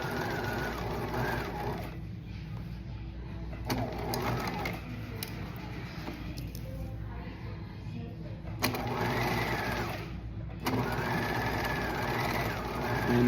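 A sewing machine runs in bursts as it stitches slippery fabric over pins, a steady mechanical whir with short pauses and stops between runs, heard up close and fairly quiet.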